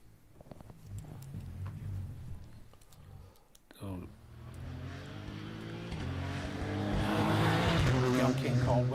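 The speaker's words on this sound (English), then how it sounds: "Young King Caldwell, car sounds okay, clutch doesn't sound to be slipping." Rally car on a stage of the Cork 20 Rally, starting far off and growing louder as the engine climbs through rising revs toward the end, with someone talking over it.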